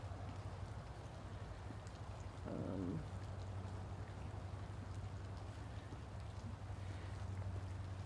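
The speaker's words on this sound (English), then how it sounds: "it's raining and wet" Steady outdoor rain makes an even, continuous hiss with a low hum beneath it, broken once by a brief higher sound near the start.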